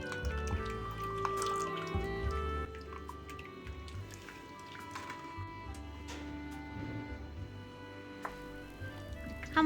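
Tomato juice for tomato pickle drips and trickles through a strainer into a bowl, close up and continuous, with small wet plinks and liquid splashes, and no one speaking.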